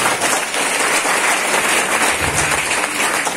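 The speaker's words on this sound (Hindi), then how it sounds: "एक बार जोरदार ताली बजाएं।" An audience claps together at a health-awareness event, loud and sustained broadband applause with no talk over it.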